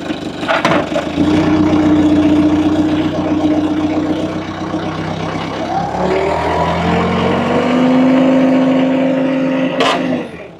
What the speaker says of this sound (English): I'll lift her up with forklift, see what we can do before we call it quits.